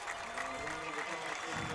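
A crowd at a high school football game between Georgetown Eagles and Copperas Cove Bulldawgs cheers and applauds in a dense, steady roar, with a commentator's voice faintly underneath.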